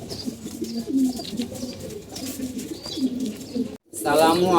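Pigeons cooing in a breeding loft, repeated soft throaty coos close by in a steady rolling rhythm, with a brief cut near the end followed by louder cooing.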